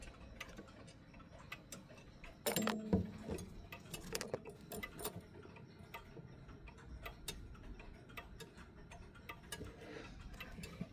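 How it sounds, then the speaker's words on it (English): A wall-hung mechanical clock, leveled but out of beat, ticks in a steady run of sharp clicks with an uneven spacing, close and fairly quiet, with a louder knock near the start. "when you go to start it up, it'll sound like this"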